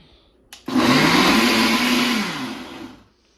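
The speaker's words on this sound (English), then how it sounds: "it's got an auto IQ, and you just push the button and it'll mix your shake" A blender with Auto IQ mixing a Grimace shake kicks on with a sharp start and roars steadily and loudly for about two and a half seconds. The motor pitch dips slightly before it cuts off into quiet.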